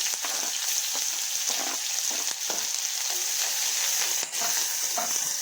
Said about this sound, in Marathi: मोहरी तडतडली की त्यामध्ये आपण चिरलेला कांदा घालू.